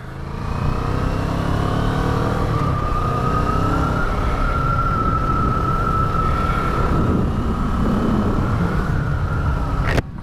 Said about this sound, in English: Gotta rev it.